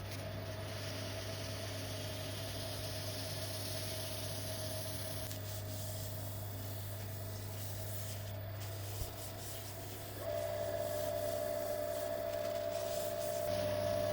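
A finish being buffed into a greenheart wood bowl spinning on a lathe, a steady low motor hum with a soft continuous rubbing hiss running throughout, fairly quiet and even, with no talking.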